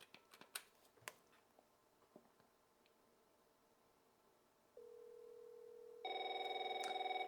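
A Tiger 911 autodialer on a telephone line: scattered clicks and handling noise, then a steady tone switches on near five seconds, followed by louder multi-tone dialing or ringing tones toward the end.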